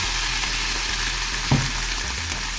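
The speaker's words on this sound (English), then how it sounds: "It's frying quite nicely." Steady sizzle of cabbage frying in a pan, a constant crackling hiss with one brief clunk midway and no talking.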